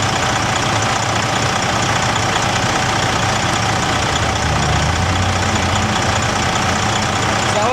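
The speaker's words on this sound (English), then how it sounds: "right now it's also in high idle" A semi truck engine runs at high idle during an AC repair, a loud, steady, dense drone with a low rumble that stays constant and close throughout, with no talk.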